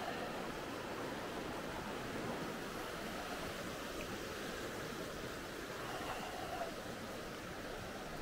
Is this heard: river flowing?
yes